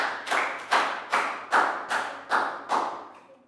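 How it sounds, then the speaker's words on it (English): Classroom applause in a Year 3 English lesson, six or seven sharp bursts of clapping in a regular rhythm, each fading quickly before the next. "big round of applause"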